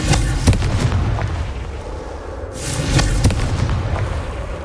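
In Hogwarts Legacy a Confringo blast spell goes off twice, each a loud, close explosive burst followed by a rumbling decay within a noisy game soundscape.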